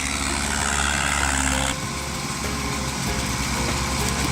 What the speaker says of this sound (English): The LKT-80, powered by a 160 horsepower engine and weighing in at